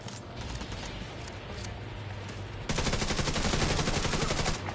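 Sustained automatic gunfire from The Division 2 video game, a dense steady rattle that grows louder and more intense partway through, with no talking.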